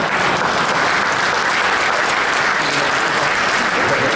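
Loud, sustained audience applause at a councilman's inaugural ceremony, a thick continuous roar of many hands clapping that stays at full strength from start to finish.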